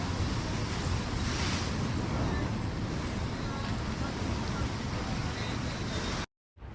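Sea waves surge and splash against the seafront at night in Colombo, a continuous roaring wash heavy with wind noise, ending in a brief cut to silence.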